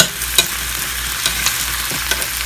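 Chicken fries and sizzles in a pan for a home chicken dinner, a steady close crackling hiss with a few sharper pops and stirring clinks, no voices over it.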